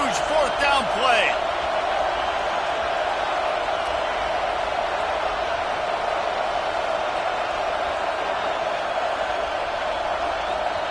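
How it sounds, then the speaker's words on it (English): A football stadium crowd roars for a fourth-down play, a dense, loud, continuous wall of cheering that stays steady throughout, with a brief whistle-like squeal near the start. "This crowd bringing serious noise on this huge, huge 4th down play."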